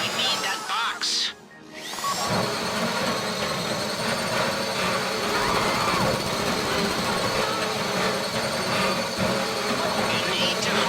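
A heavy drill in GTA 5 grinds into a safe-deposit box during a bank heist, a loud continuous buzzing whine with rattling texture that starts after a brief pause and runs steadily, with voices talking over it at times.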